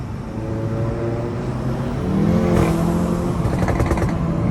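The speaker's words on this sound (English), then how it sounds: "the exhaust just pops in the back" A Volkswagen GTI's upgraded engine rumbles and then revs up loudly, with crackling exhaust pops toward the end; loud and close, no speech.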